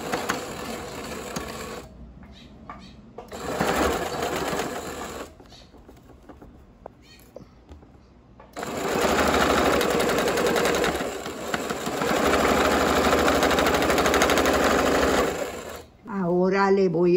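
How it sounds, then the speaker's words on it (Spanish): Sewing machine running in long bursts to topstitch a pair of fabric shorts, loud and close, with pauses between runs and brief soft speech near the end. "Ahora le voy a dar el pespunte por donde se introduce la mano."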